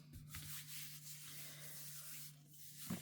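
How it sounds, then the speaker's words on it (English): A hand rubs paper firmly over a coated surface, making soft, steady scrubbing strokes in repeated passes, close and quiet, with a low steady hum underneath. "this is where you want to make sure you rub it real good."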